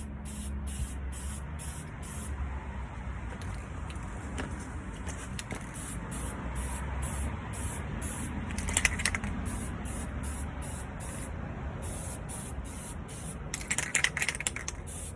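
Aerosol spray paint hisses in steady bursts over a car wheel, with a hand shielding part of it, the broad continuous hiss rising and dropping between passes, close and fairly quiet, with no talking.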